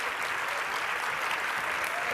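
An audience claps to welcome a speaker onto the stage at a live SXSW talk, a dense, even roar of many hands that carries on without pause.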